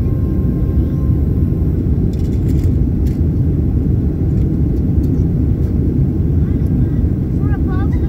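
Cabin noise fills an airliner climbing out after takeoff from SFO, a loud, constant low roar of engines and rushing air, close and steady, with some faint chimes and clicks near the end.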